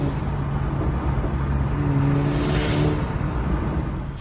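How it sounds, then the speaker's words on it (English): A Volkswagen Golf GTI Edition 30 with a turbo boost leak drones steadily up close, its engine note rising slightly midway with a broad hissing rush layered over the low rumble. "So it has got a boost leak."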